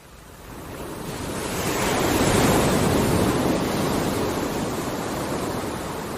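Sea waves surging in a broad, steady wash that swells to a peak midway and then eases slightly, with no voices.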